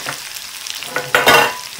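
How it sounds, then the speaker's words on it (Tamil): Okra (ladies finger) sautéing in a pan for a tangy Indian kuzhambu, with a soft steady sizzle broken by a few louder stirring scrapes and bursts toward the end, close and without talk. "5-6 நிமிஷம் நல்லா வதங்கட்டும்."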